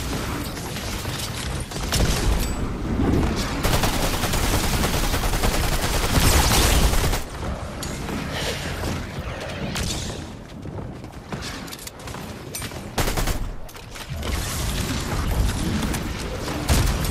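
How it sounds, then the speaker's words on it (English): Dense, continuous video-game gunfire from Fortnite, rapid bursts and booming shots layered almost without pause, loud and busy throughout with brief dips. "I'm just keep on shooting these guys"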